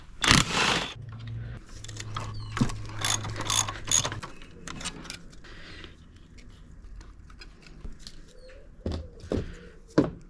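A ratchet clicks in quick bursts while brake calipers are taken off a Honda S2000 in a garage, the pawl rattling in short close runs with pauses between and no talking.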